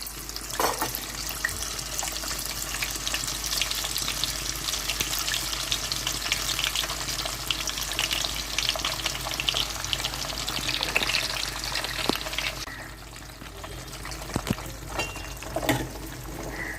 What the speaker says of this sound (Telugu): ఆయిల్ వేడవ్వింది. ఇప్పుడు ఉసిరికాయలను వేసుకుందాము.